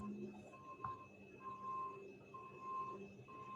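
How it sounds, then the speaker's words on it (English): Faint, repeated reversing beeps from dump trucks at a nearby work site sound in a slow, regular pattern, thin and distant beneath a low background hum. "I'm sorry, it's a bit noisy because they have the dump trucks."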